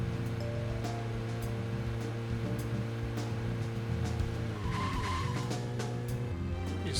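A car in the Deadly Premonition video game brakes hard, its tires skidding and squealing over a steady engine drone, with a sharper screech of rubber partway through.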